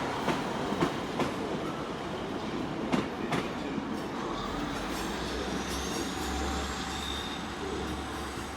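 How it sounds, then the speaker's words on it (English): Cross-country passenger train to Plymouth arriving at Exeter St David's station: a low, steady rumble with faint wheel squeal and scattered clanks, moderately distant and fairly quiet, with no talking. "we do have the cross-country service to Plymouth coming in"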